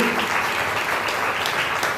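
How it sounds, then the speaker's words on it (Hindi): Congregation at a Jain religious discourse claps loudly in honour of women fasting for ten days, a short continuous burst of crowd applause with no voices over it. "उनके सम्मान में जरा आप जोरदार तालियां तो दो।"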